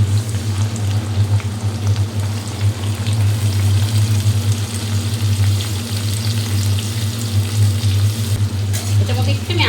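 Moringa drumsticks sizzle in hot oil for a Bengali potato and bori dish, a steady close crackling fry that runs throughout over a low background hum.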